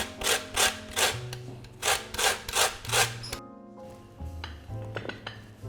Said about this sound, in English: I'm going to grate some citrus now, whatever you prefer, and I'm starting with my lemon.